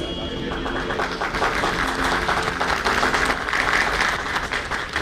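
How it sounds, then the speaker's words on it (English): Audience applause greets dignitaries arriving at a Ghaziabad Management Association event, a sustained, dense clapping crowd that holds steady and fairly loud throughout. "May we have a huge round of applause for our dignitaries."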